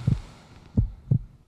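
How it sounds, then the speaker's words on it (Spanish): Three soft, low thumping heartbeats in a slow, slightly uneven rhythm, close and muffled, with quiet gaps between. "La respiración de mi madre y los latidos del corazón de mi padre."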